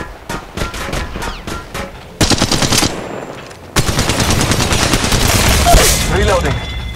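Automatic gunfire rattles in the mobile shooter Apex Legends Mobile, rapid bursts of loud close shots that break off, restart and then run as a long sustained stream with a brief pause in between.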